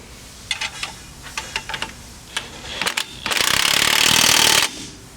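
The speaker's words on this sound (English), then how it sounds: "We can go ahead and tighten up our shock mounting bolt using our 18mm socket and wrench." A ratchet wrench with an 18mm socket tightens a shock mounting bolt on a Polaris Ranger XD 1500 forward control arm install: a few short clicking bursts, then a sustained, louder buzzing ratchet run, close up with no talk.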